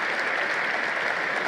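Brief burst of dense applause from a large congress audience, an even wash of many hands clapping at once with no break.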